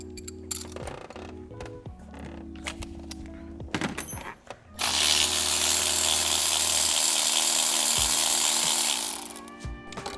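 Power tool loosening the M10 center bolt on an Audi 4.0T engine during a spark plug change, heard as a loud steady whirring burst of about four seconds after scattered clicks and clunks, with no talk.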